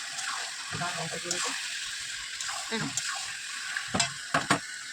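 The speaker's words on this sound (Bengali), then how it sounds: "যে মাংসটা কষিয়ে নিচ্ছে" Mutton sizzles in a pan while being stirred, with a constant frying hiss and several sharp scraping strokes nearby.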